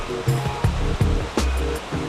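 Water of the Huatanay river in Cusco rushes steadily as a broad, loud, continuous roar, with a few brief splashy surges breaking through the flow.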